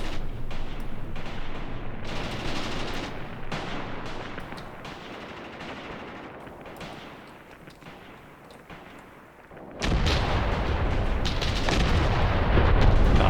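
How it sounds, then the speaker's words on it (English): Artillery barrage shelling in the wargame Graviteam Tactics Mius: a continuous rumble of distant shell impacts and crackling gunfire that fades slightly, then surges back loud and close with heavy booms. "this artillery barrage, it's getting a little bit close to my own guys"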